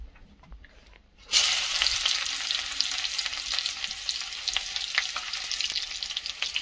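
After a second of quiet, a bidani mushroom curry hits hot oil in a village kitchen and starts a loud, steady sizzle that keeps crackling on without any talk.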